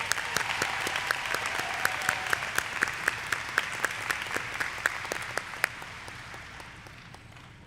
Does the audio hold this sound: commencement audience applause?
yes